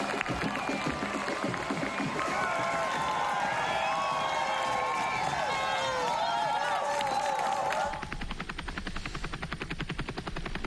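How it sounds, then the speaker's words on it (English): Roadside crowd along the Berlin Marathon course, a broad steady roar of cheering and noise with a helicopter-like drone beneath, while a commentator talks over it throughout. "Really good crowds out on the course."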